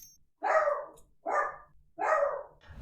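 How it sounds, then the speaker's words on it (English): An old Dachshund barks three times in a slow, evenly spaced series, loud and close, with quiet room tone between the barks. "I don't know what the Dachshund's barking about."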